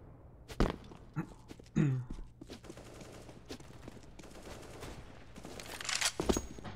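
Gunfire in a shooter video game match: a few sharp separate shots and short bursts at uneven intervals, with fainter game noise and movement between them and a louder cluster near the end.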